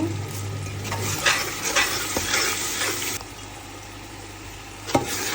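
Moderate frying sizzle with stirring and scraping as spices and black pepper fry with meat in a pan, busier at first and then settling to a quieter hiss.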